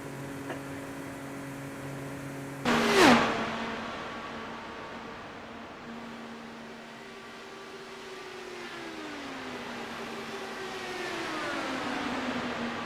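An IndyCar racing engine in a video game pit stop gives a sudden loud whoosh and roar, then drops to a steady droning hum that slowly shifts in pitch, with no talk.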